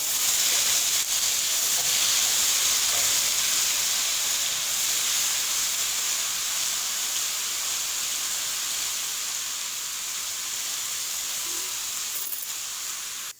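Ginger paste frying in hot oil for a white beef karahi, a steady bright sizzling hiss that holds loud and even throughout with no talking.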